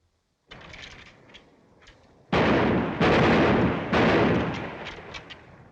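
Artillery fire from a 1941 film, a distant rumble followed by several heavy, booming blasts in close succession, each ringing out and decaying.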